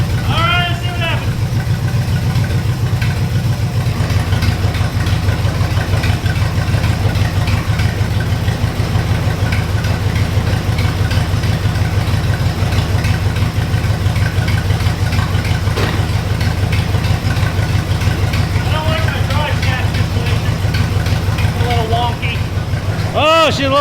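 A Chevrolet C10 truck engine, on a rusty long-bed truck being converted, runs at a steady rough idle and is then put in gear. The deep rumble stays loud and continuous, and a voice talks over it near the start and end.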